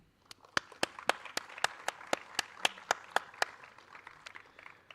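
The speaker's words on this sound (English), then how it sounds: "please thank them for the support with a huge round of applause." Rhythmic applause at the Solar Decathlon India Finals 2024 honouring a jury member: about twelve sharp, evenly spaced claps, fairly quiet and clear, with a faint murmur beneath and no talking over them.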